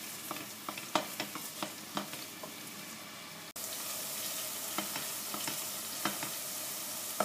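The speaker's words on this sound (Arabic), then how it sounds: "قلي البصل بالقدا حتى لين يذبل" Onions fry in a pan until soft, a continuous close sizzle broken by intermittent stirring clicks and scrapes, with the sizzle briefly cutting out and resuming.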